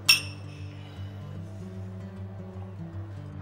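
Drinking glasses meet in a toast with one bright, sharp clink right at the start, followed by a soft ringing decay under quiet music.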